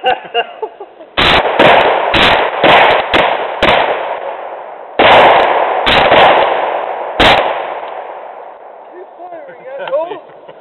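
An AK rifle fires outdoors in several loud, sharp single shots and quick bursts, each followed by long rolling echoes, with voices talking afterward.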